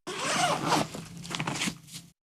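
Zipper on a Kiboko backpack's large butterfly equipment pocket being pulled open in one continuous run of close, raspy ripping, loud and alone with no talk.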